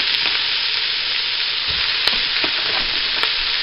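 Oxtail or ham hock sizzles loudly in a pot with translucent onions, a dense, steady frying hiss with a few soft stirring knocks, close up and with no talking.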